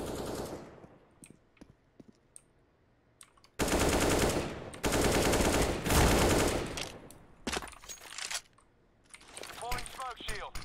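Counter-Strike gunfire on a FACEIT match: loud, close automatic bursts fire in two long stretches, with scattered single shots and keyboard clicking in the quieter gaps, and a voice occasionally in between.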